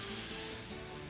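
Garlic and ginger sauté in a hot pan with a soft, steady sizzle and crackle, faint and continuous for a brief moment.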